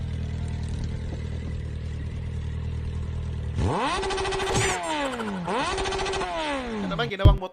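Motorcycle revving in a Filipino funny-video compilation, a loud engine note rising and falling in repeated sweeping revs after a steady low rumble, with people talking and laughing around it.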